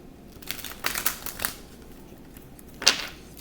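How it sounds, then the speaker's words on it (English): Tarot cards shuffled by hand in a few short, crisp riffling bursts close by, with a sharper snap near the end and no talking. "I'm going to shuffle."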